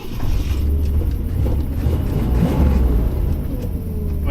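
A 1966 Thunderbird with its 390 V8 rumbles loud and close, a steady low engine drone with slight rises as the throttle is worked, no clear high-rpm sweep.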